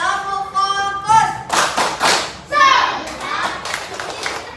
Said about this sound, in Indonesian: Kita tepuk fokus dulu sama-sama ya.